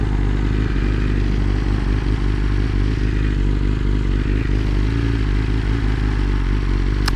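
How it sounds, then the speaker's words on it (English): A BMW S1000RR motorcycle engine runs at a steady idle, a loud, continuous low rumble with faint mechanical clatter, close up and without speech. "Everything sounds good in the motor."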